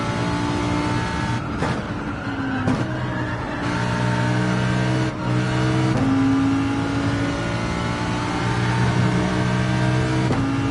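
A GT4 race car engine in Gran Turismo 7 drones steadily at high revs, with sustained tonal whine and brief dips at gear shifts, loud and continuous throughout.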